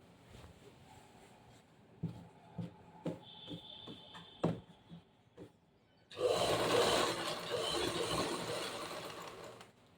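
A sewing machine stitches a zigzag seam on a saree: a few faint mechanical clicks and taps at first, then a loud, steady whirring run of the motor for the last few seconds.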